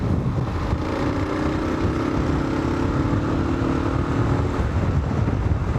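A Kawasaki KLR 650 motorcycle engine with 40,000 km revs steadily and loudly at about 4,500 rpm on gravel, a continuous droning roar with a slight rising pitch, mixed with wind buffeting.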